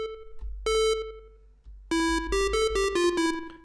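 Synth notes from Bitwig Studio, run through a fast reverb: one bright sustained tone, a pause, then a quick run of repeated tonal notes that step slightly in pitch, each with a short reverb tail.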